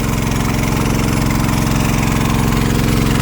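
Engine-driven water pump drawing water from a pond in a rice field, a loud, steady mid-pitched engine drone with a fast even chugging throb, running continuously and close by.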